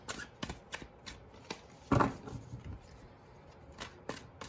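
Tarot cards are shuffled in a soft, riffling rhythm of short flicks with one heavier slap partway through, close and without speech.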